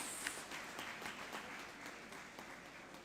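A crowd at the opening of a development centre gives a round of applause, a soft, continuous patter of many hands clapping that fades slightly, heard at a distance and quietly.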